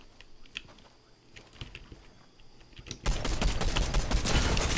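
Gunfire hits the player in Fortnite: a few scattered clicks and taps lead into a sudden dense, loud stream of rapid shots and impacts that runs through the final seconds.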